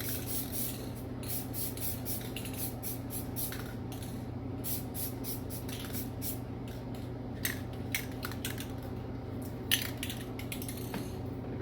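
An aerosol sprays a light coat in a long run of quick, short hissing bursts, with small clicks and taps in between, close and fairly quiet.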